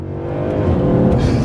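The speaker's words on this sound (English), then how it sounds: "But here's one last pull with the C63." A Mercedes C63 AMG engine roars under hard acceleration, rising in pitch as it pulls through the revs, loud and close with no voices.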